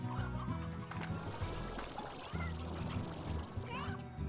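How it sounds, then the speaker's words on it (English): Hens clucking in the Slime Rancher video game, a steady scatter of clucks and fowl calls mixed under continuous background game music, with no talking. "Ah, there are more hens up here."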